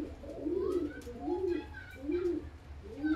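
Breeding high-flying pigeons coo nearby in soft, repeated rolling phrases, about four across the stretch, with quiet background noise.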